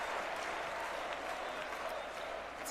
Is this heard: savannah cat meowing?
no